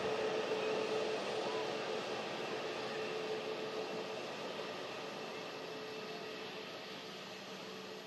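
A Ryanair airliner landing on arrival from Valencia gives a faint, steady jet hiss and whine with a thin tonal line, slowly fading as it goes.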